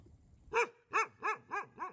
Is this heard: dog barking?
yes